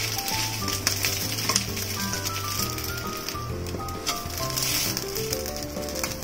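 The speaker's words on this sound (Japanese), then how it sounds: "ひっくり返して同じように焦げ目をつけていきます。" Maruchan yakisoba noodles browning in a hot pan, a constant loud sizzle and crackle throughout, with faint music playing underneath.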